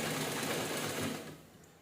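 A sewing machine stitches piping onto a blouse, giving a steady rapid close-up whir that eases off and fades toward the end.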